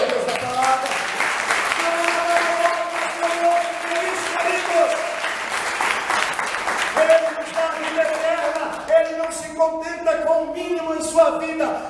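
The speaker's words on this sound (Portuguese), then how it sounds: "Você pode aplaudir a Deus da palavra." A church congregation applauds steadily throughout, a dense wash of clapping that runs the whole time beneath sustained organ or keyboard chords and a voice singing or speaking over it.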